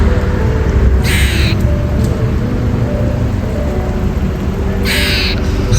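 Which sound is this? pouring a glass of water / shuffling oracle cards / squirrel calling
squirrel calling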